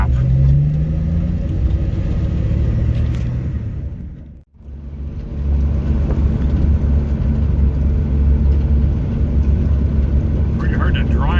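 Interior of a car driving home on the road in springtime, with steady low engine and road rumble throughout, a brief dropout midway, then continuing constant drone.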